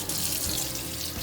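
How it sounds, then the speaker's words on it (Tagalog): Cold water runs steadily from a kitchen tap over ramen noodles being strained in a sink, a continuous close hiss and splash with no talking. "I'm gonna strain like cold water. Make sure it's cold water."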